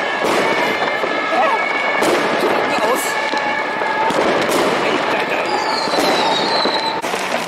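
New Year's Eve firecrackers exploding in Hamburg: dense, continuous crackling and booming from many directions, loud and near, with people talking underneath.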